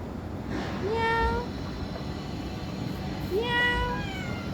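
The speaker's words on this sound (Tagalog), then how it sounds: "Meow." A cat gives two short, rising meows a few seconds apart, fairly close, over a constant background hum.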